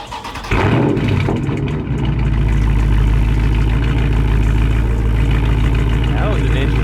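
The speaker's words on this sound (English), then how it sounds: "to get a little cold start" A Dodge Charger 392 Scat Pack V8 starts from cold with a loud, sudden roar, then holds a deep, steady, rumbling high idle close by for the rest of the stretch.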